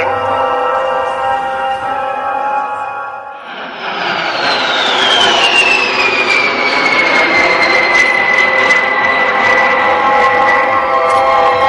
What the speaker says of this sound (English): we appear to have the B-1B landing